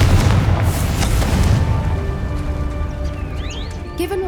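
A Confringo fire spell bursts in Hogwarts Legacy with a loud, booming blast that rolls off into a crackling tail, followed by sustained magical tones and shimmering effects.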